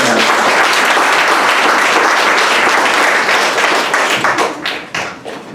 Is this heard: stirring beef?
no